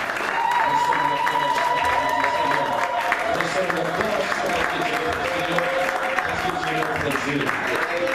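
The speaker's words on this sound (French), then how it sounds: "nous voulons te donner une grande acclamation très fort parce que c'est Dieu" Dense congregation applause with scattered cheers fills a church, steady and loud throughout, with sustained music or voices running underneath.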